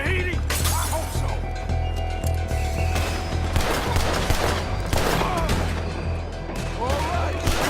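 Gunfire in the video game Red Dead Redemption 2 during a street shootout, with repeated sharp shots and volleys cracking over a low rumbling bed, some close and some farther off, under voices.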